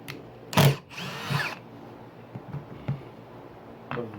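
A power drill whirs in short bursts close by, with a brief screwing grind and a few knocks against wood between quieter pauses, driving screws into raised garden bed boards.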